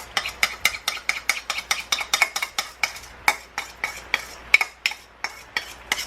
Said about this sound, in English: first I'm going to start off by putting the sauce into the pad thai noodles